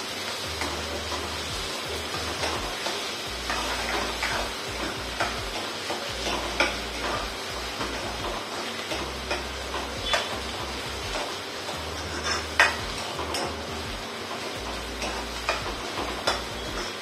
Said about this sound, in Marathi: आता आपण टमाटर टाकू. टमाटर पण चांगलं मऊ शिजवून घ्यायचं आहे.